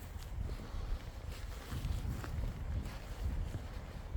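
Strong headwind buffets the microphone outdoors on a gravel shore by the water, producing a continuous loud rumbling roar with gusty bursts and no speech.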